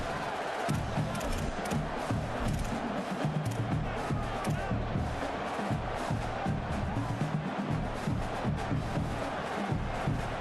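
A stadium crowd in an NCAA college football video game roars steadily, a dense wall of cheering and chanting that stays loud throughout with little break.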